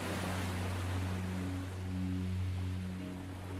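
Soft ocean waves wash steadily in a continuous, gentle surf hiss, with a faint low hum running underneath, calm and unbroken from start to finish.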